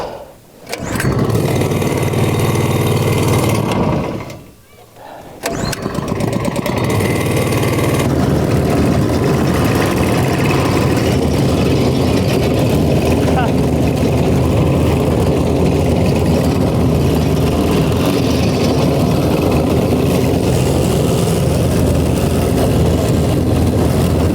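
A homemade boat engine built from a saw blade runs continuously at a steady, loud drone after a brief start and a short cutout, with no talking.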